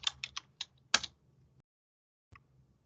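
Quiet keystrokes on a computer keyboard as a password is entered, a quick run of about six light taps followed by a pause and one last faint tap, close and soft.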